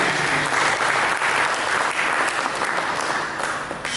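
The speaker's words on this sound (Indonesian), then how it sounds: "Mari kita berikan tepuk tangan bagi" Congregation applause fills a church during a Christmas Day sermon, a dense, steady wash of clapping from many hands that holds loud and even for about four seconds before easing slightly at the end.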